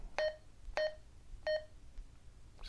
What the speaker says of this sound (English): Roger beep, which makes a tone after you release the push to talk button when you've been transmitting.